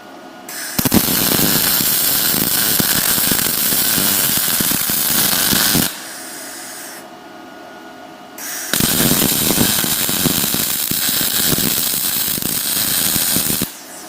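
Arc welding on an arbor press stand: two long, loud, steady crackling and sizzling welding runs, each several seconds, separated by a short quieter pause.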